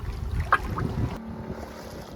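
Sailboat moving along under main, staysail and Yankee in calm wind, a soft steady rush of wind and water with a brief knock near the start, no voices.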